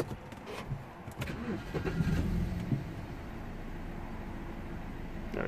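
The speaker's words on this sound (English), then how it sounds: "Now let's start the engine." A BMW E90 320i engine cranks and catches, settling into a steady low rumble that continues at a constant level, idling without faults after repair.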